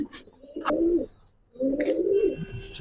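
Pigeons at a pigeon farm that keeps high flyers, racers and fancy breeds, two close, clear rolling coos a moment apart, with a faint chirp behind them.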